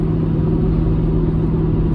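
Car cruising in the fast lane at 70 mph and about 2100 rpm, a steady low engine and road rumble with constant loudness throughout, no voices.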